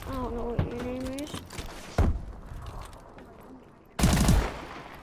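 Gunfire in the video game Call of Duty: Advanced Warfare, with sharp bursts of shots and mechanical clacks at intervals, over a low game background and a brief voice.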